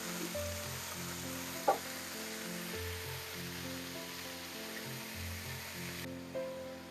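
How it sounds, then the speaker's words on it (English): Chopped leek, onion and garlic sizzle steadily in a hot pan while being stirred, a continuous close frying hiss with a faint utensil knock and a low hum underneath. "Stir that leek with that onion and that garlic together."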